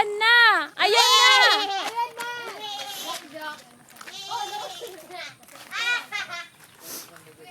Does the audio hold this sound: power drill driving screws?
no